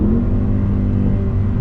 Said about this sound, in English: Automatic rev match to where it needs to be.